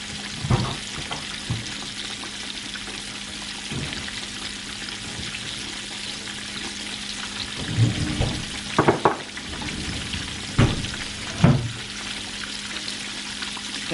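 Food frying in a pan gives a constant, close crackling sizzle, broken by sharper clinks and scrapes of stirring and utensils on the pan.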